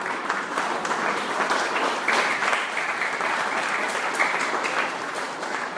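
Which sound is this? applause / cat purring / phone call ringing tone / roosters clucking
applause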